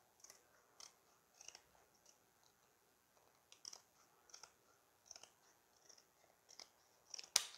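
Scissors snipping through a slice of cardboard box while building an anemometer model, a series of faint, close, crisp cuts at an irregular rhythm with quiet pauses between.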